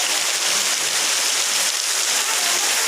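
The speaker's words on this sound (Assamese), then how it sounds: "বৰষুণ আহি আছে" Cool rain beginning to fall outdoors during a monsoon-season day, a steady dense hiss of drops that stays even and close throughout, with no voices.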